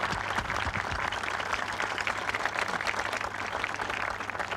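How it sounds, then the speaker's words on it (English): Sustained applause from an audience at a university space rover challenge event, steady and fairly loud, with many hands clapping together throughout. "Round of applause"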